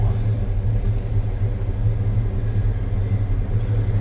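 A 1955 Pontiac Safari wagon's engine runs steadily up close, a deep, loud, even rumble that holds without pause or revving.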